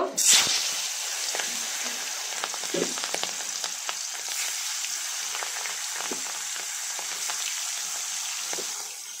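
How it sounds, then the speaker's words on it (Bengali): Pangas fish goes into hot soybean oil and crackles with a sudden loud splash of sizzle. A steady frying hiss follows with scattered pops and spatters, close by and without talking. "তেল গরম হয়ে গেছে, এখন আমি মাছ দিয়ে দেব।"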